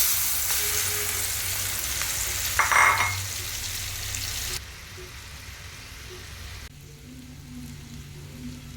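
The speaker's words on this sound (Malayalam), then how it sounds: "ഫ്രൈ പാൻ എടുത്ത് അടുപ്പത്ത് വെച്ചിട്ട് അതിൽ എണ്ണ വെച്ചിട്ടുണ്ട് നമുക്ക് ഈ കല്ലുമക്കായ ഫ്രൈ ചെയ്തെടുക്കാം" Close, steady sizzling of mussels frying in hot oil in a frying pan, with a brief louder crackle and stir partway through, then quieter frying.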